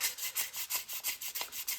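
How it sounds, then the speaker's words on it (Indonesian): Fine 1200-grit sandpaper is rubbed back and forth over a model airplane rib template, giving about a dozen quick, even, close-up scratchy strokes in a steady rhythm. "Setelah itu kita lanjutkan dengan amplas."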